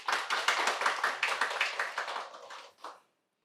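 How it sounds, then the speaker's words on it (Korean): An audience at an open data forum seminar claps to welcome a journalist, a rhythmic burst of hand claps that gradually thins, with a last stray clap before silence. "이영관 기자님 큰 박수 부탁드리겠습니다"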